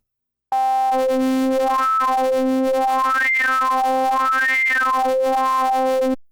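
Serum synthesizer playing a sine wave with hard sync: a loud sustained tone whose harmonics sweep up and down twice, with a harsh buzzing noise above the midrange, ending in a short fade.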